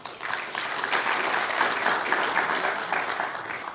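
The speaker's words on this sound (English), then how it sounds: "they're due a big round of applause for all their efforts" An audience at a golf club board election candidates night applauding, a full, steady round of clapping that holds for several seconds before tapering slightly.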